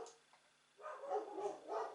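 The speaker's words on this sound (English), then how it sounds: "Every time I record, they bark." Several dogs barking indoors in a series of loud yips and barks, with a short quiet gap before the barking starts.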